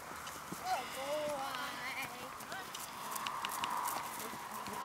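Horse trotting in a jumping arena, with rhythmic hoof clip-clops at moderate distance, a snort or whinny, and people talking throughout.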